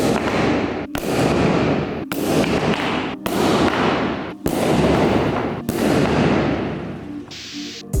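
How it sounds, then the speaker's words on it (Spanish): Spanish-made Volcano CO2 sonic airsoft grenade discharging its gas charge after the pin is pulled and it hits the ground: a series of loud, sharp cracking bursts, about seven close blasts in eight seconds, each ringing into a roaring hiss. "Es simplemente tirar la anilla, impacta contra el suelo y expulsa la carga de CO2."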